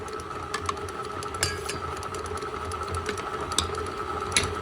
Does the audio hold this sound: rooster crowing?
no